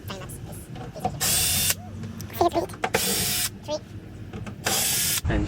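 Power drill backing four screws out of a wooden dog crate box built inside a Promaster van: three short, loud whirring bursts separated by pauses, with a voice speaking between them.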